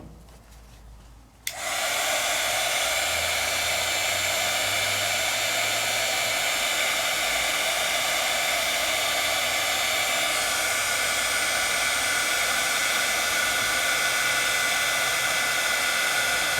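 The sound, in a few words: heat tool heat-setting embossing ink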